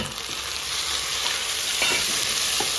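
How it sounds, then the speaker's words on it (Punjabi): Chopped tomatoes and green chillies sizzle steadily in a pan of browned onion masala, a continuous near frying hiss with a few soft stirring scrapes and no talk. "ਹੁਣ ਆਪਾਂ ਕੱਟੇ ਹੋਏ ਟਮਾਟਰ ਤੇ ਹਰੀਆਂ ਮਿਰਚਾਂ ਇਹਦੇ ਵਿੱਚ ਹੀ ਪਾ"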